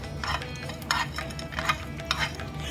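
Black peppercorns dry roast in a pan, producing bursts of rattling, scraping stirring with light crackle, repeated in a loose rhythm close by.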